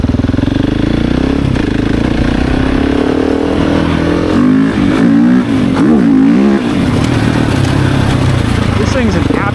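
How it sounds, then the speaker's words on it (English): A 2024 GasGas ES700 with a full titanium exhaust roars hard under load, its engine repeatedly bouncing off the rev limiter in a loud, close, stuttering drone while the rear wheel slips; wind noise and a voice come through faintly. "Immediately just starts slipping, bouncing off the rev limiter all the way up through fourth."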